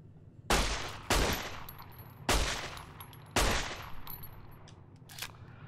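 Gunfire in Fallout: New Vegas rings out as four loud, sharp shots spaced about a second apart, each with a short decaying echo, over a quiet background with no talk.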